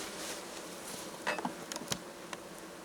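Honeybees hum steadily around a hive in summer, a soft, continuous buzz with a few louder passes close by and faint handling noises.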